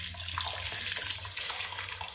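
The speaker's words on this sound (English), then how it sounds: "Just let the water drain out of that." Hot water drains in a steady, continuous splashing stream out of a lifted bag of scalded tomatoes, close by and alone, with no voices.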